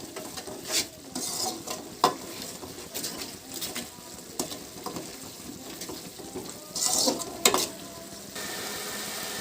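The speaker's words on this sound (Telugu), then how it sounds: "ఇలా బాగా కలుపుకోవాలి ఫ్రెండ్స్. కలుపుతూనే ఉండాలి." Egg biryani gravy being stirred in a pan, a steady scraping and clinking of a spoon against the pan with a faint sizzle underneath, close and continuous with a few sharper knocks.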